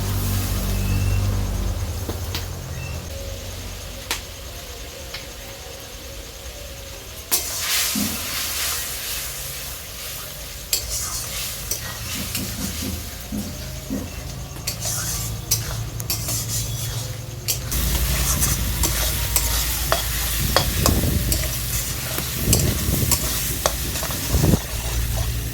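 Spiced masala for a jackfruit and meat curry sizzles and hisses in a pan as water goes in, with steady stirring and occasional scrapes of a utensil against the pot, the frying swelling louder toward the end.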